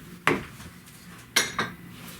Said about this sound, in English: use this rubber spatula, I'm using it instead of the big spoon, to fold the whipped cream into our cream cheese mixture here